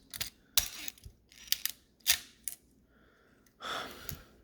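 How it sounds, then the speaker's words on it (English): A Nikon F2 camera's slow shutter mechanism is released repeatedly at close range, giving a series of sharp, quiet mechanical clicks and snaps with short gaps, ending in a brief whirring buzz. "If I release down here, does that activate the slow shutter mechanism?"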